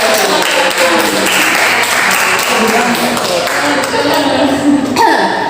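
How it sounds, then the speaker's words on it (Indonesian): A group in an Indonesian classroom does Javanese-style clapping, rhythmic hand taps and claps running steadily throughout, mixed with many voices chanting or calling out together. "Tepuk tangan Jawa."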